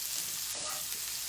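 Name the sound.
garlic and shrimp sizzling in frying pan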